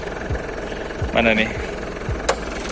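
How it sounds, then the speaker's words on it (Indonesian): Mitsubishi Pajero Dakar 4x2 engine idling under an open hood, a steady close rumble with a few clicks and a brief voice speaking over it. "Coba didengar suaranya nih mesinnya."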